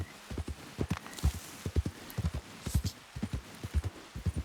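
Horse hooves clip-clop steadily in Red Dead Redemption 2 as a big black horse travels near beaver and moose swamps, a close, even rhythm of hoofbeats with a soft bed of ambience and no talk.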